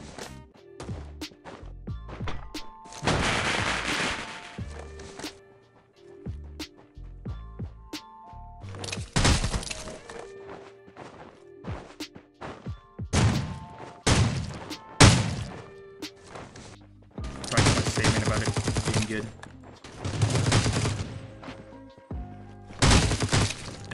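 Gunshots in the mobile battle royale game Rules of Survival: sharp, loud blasts in irregular clusters separated by quieter gaps, with several longer, bright bursts of firing.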